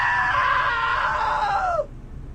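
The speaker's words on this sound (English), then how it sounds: "Now that was a great scream." A long, loud scream from a woman in the video game What Remains of Edith Finch, held steady for nearly two seconds and then cut off sharply, with no speech.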